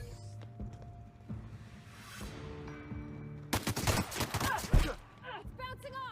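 Gunfire in the sci-fi video game The Outer Worlds: a loud, dense burst of rapid shots erupts midway, following quieter in-game ambience and small mechanical clicks.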